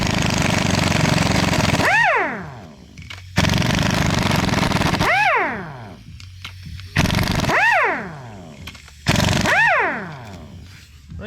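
An impact wrench tightens bolts while 8.8 gears are installed on a nitrous LS Fox, firing four loud rattling hammering bursts, each ending in a falling whine as the tool spins down between pulls.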